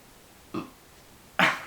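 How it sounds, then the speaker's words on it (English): Two short throaty burps come close to the mic, a soft one followed by a louder, rougher one, in an otherwise quiet room with no talk. "God, sorry, I burped."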